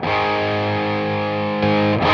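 An electric guitar through Boss OD-2 and OD-2r overdrive pedals rings out in a loud, sustained distorted chord, followed by a brief second strum near the end, with no talking.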